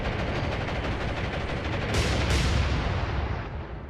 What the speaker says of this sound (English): There go the bombs.